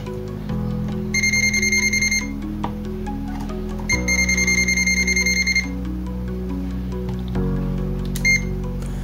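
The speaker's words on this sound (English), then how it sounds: "The buzzer emits a beep and an intermittent sound" A clamp multimeter's buzzer beeps in steady bursts, stopping and starting three times over a constant low electrical hum.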